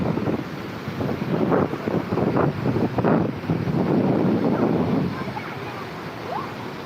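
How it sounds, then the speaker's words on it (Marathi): A swollen river roars steadily, its rushing water mixed with gusts of wind buffeting the microphone, loud and close. "आमच्याकडच्या नदीचं पाणी केवढं वाढलेलं आहे"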